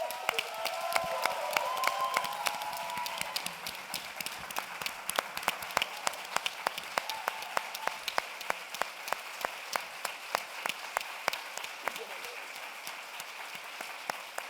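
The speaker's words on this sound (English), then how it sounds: "Let's give one more big round of applause to all of our panelists." An audience applauds panelists in sustained clapping, dense at first with a few cheers, then thinning out gradually over several seconds.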